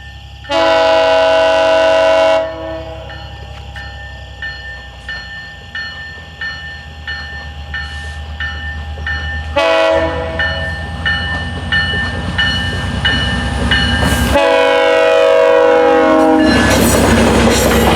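A GO commuter train passes close by, opening with a loud sustained horn blast, then a long rolling clatter of wheels over rail joints, further horn blasts midway and near the end, building louder.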